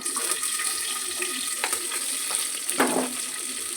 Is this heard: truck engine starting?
no